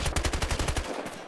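Rapid automatic gunfire in the shooter game Battlefield Hardline, about a dozen loud, evenly spaced shots in quick rhythm that stop abruptly near the end, leaving a brief quieter tail.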